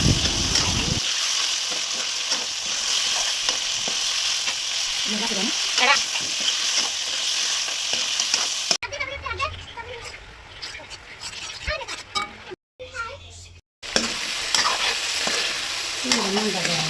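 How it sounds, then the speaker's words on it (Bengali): Chicken pieces stir-fried in a pan with fried onions and spices for a Bengali chicken curry, giving a steady, close sizzle with scraping stirs throughout and a short quieter dip near the end. "এখন মাংসগুলোকে আমি ভালোভাবে কষে নেব।"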